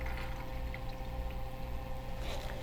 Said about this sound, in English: So we're going to pour our product out.